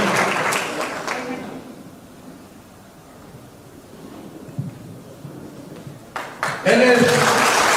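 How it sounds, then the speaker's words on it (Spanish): An audience at a church gathering applauds for a pastor, a brief burst of clapping at the start that fades into quiet room tone before a speaker talks again. "con nosotros presente el pastor Donald Fran, para quien pido un fuerte aplauso."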